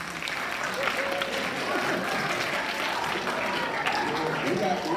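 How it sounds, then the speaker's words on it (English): A school audience claps together, a dense, steady burst of applause filling the room at close range, with voices mixed into the crowd noise. "So y'all clap it up for yourself."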